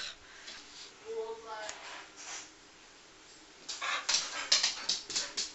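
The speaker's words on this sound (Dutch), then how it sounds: "Ga je maar lekker buiten blaffen." Indoors, a dog lets out a brief high whimper, then after a pause breaks into a run of close, sharp barks and yelps.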